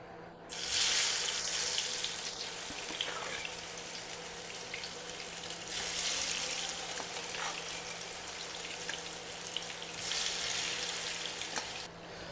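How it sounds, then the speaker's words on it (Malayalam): Soya chunks frying in hot oil on a low flame, a steady close crackling sizzle that runs throughout with brighter hissing bursts, and no talking. "നമുക്ക് സോയാബീൻ ഒന്ന് ഫ്രൈ ചെയ്തെടുക്കാം"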